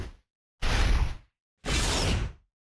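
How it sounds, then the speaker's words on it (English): Two separate whoosh sound effects placed in a video edit, each a broad, airy swish lasting under a second with silence before and between them, loud and close with no voices. "searching for a lot of whooshes and like placing them in onto the effects"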